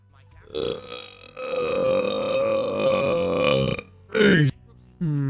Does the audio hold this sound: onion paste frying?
no